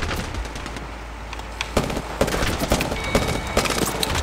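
Gunfire in the Apex Legends video game: rapid bursts of sharp shots, clustered and irregular, with a quieter stretch at first and then denser cracks, loud and close, with no talking.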